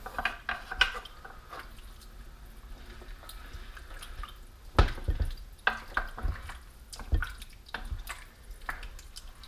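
A spoon stirs jambalaya in a pot on the stove after stock is added and the heat turned up, with scattered scrapes, clinks and soft wet bubbling close by, and a louder scraping burst midway.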